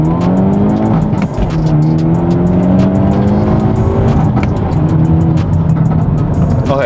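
Loud, close engine of a 2022-or-later Hyundai Elantra N revving hard through a first-gear launch pull, with rising harmonic engine tones and some tire noise, continuous with no talking.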